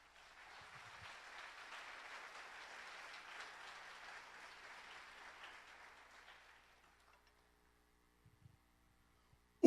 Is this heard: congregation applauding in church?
yes